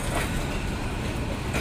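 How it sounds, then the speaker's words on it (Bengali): A long freight train passes on a railway line in Dhaka, with a loud, steady rumble and rolling roar close by and no talk. "অনেক লম্বা ট্রেন, মালবাহী ট্রেন।"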